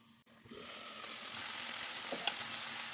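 Mixed vegetables with spinach sizzle steadily in a pan as they are stirred, a continuous close frying hiss with a few soft scraping strokes and no talking.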